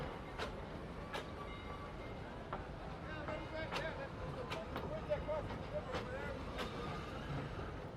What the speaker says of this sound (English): See, there is the little Plymouth locomotive helping to give the train a push